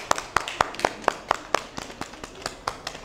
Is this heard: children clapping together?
yes